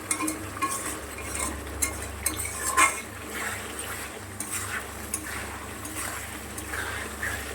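A spoon or spatula scrapes and stirs masala with potatoes frying in a pan for a fish curry, making intermittent clinks and a soft sizzle in a quiet kitchen, with no talking.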